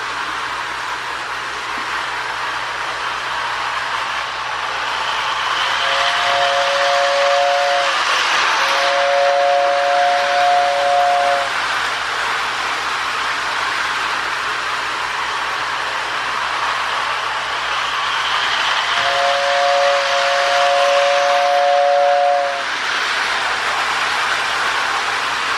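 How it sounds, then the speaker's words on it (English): A Lionel 1666E model steam locomotive running steadily on track, its whistle tender sounding two short toots followed by a longer blast, repeated twice over the continuous rumble of the train. "I haven't run that whistle tender in a while, but it still works really nice."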